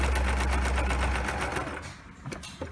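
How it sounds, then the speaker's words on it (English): Sewing machine stitching fabric scraps together: a fast, even mechanical chatter of needle strokes that runs steadily, then slows and stops near the end, with a few faint clicks after. "Here I'm still continuing my stitching."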